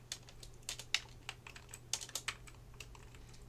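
Keys on a computer keyboard are tapped in quick irregular bursts as a name is typed, crisp and close over a faint steady hum, with no talking.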